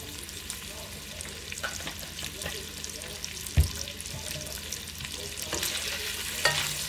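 Bacon and vegetables for cowboy stew frying in a pan, a steady close sizzle with light stirring and scraping, a sharp clack midway and occasional utensil knocks; no talking.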